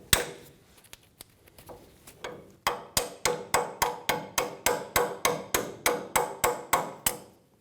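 Repeated hammer strikes drive a 24mm socket down over the castle nut on a 2005-2015 Toyota Tacoma lower ball joint, starting with a few scattered light taps, then settling into a steady run of about fifteen sharp, evenly spaced metallic blows close by.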